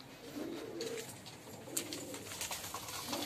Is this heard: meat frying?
no